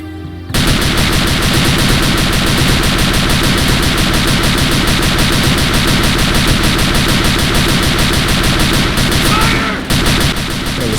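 Sustained machine gun fire in the Faces of War video game, loud, dense and continuous for about ten seconds after a brief quiet start, with only a short dip near the end.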